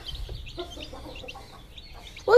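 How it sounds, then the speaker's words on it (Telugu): Tiny fluffy chicks cheep in thin, high chirps, soft and scattered, ending in a sudden louder burst of noise. "మీకు కూడా ఇలాంటి బుజ్జి బుజ్జి క్యూట్ క్యూట్ కోడి పిల్లలు కావాలా?"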